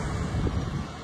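A bus headed for Medan passing on a toll road, a brief, fairly distant rush of engine and tyre noise that swells slightly and then fades.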